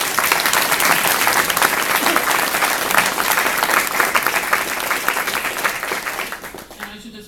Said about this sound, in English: So I think they really deserve a round of applause.